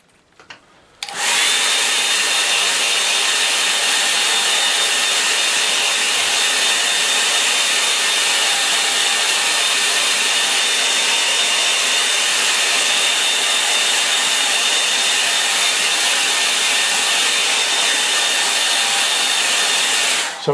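A hair dryer blows steadily and loudly to dry a watercolour landscape painting, starting abruptly after a brief quiet moment and running continuously without talk.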